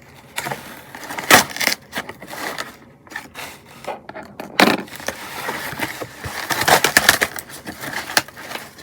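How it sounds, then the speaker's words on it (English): Metal scissors scraping and scratching across a paperback book, giving rough, uneven bursts of rasping and crunching friction, close and fairly loud, with short pauses between strokes. "I'm gonna scratch the book with the scissors."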